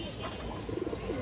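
Several pigeons at a seller's loft murmur and coo, with a short cluster of low throaty coos rising over a busy, steady background of bird sound.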